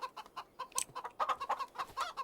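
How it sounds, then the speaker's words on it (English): Chickens in Farming Simulator 25 cluck in a busy flock, with short repeated clucks overlapping at close range and one brief higher squawk partway through. "Oh, look at all those chickens."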